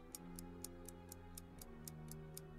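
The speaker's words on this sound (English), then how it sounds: "I hear ticking." Steady ticking from a timer in the Goose Goose Duck game, about ten evenly spaced crisp ticks at roughly four per second, quiet and clear over a faint low hum.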